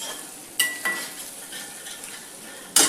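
Aloo and corn sandwich filling stirred in a bowl with a spoon, a few soft scrapes and clicks against the rim over a quiet background, with one sharper clatter near the end.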